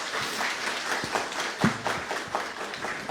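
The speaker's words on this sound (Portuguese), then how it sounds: "Pediria uma salva de palmas aqui para os nossos convidados" A seminar audience gives the guests a round of applause, a steady patter of many hands clapping at moderate distance, fairly soft, with a little talk mixed in.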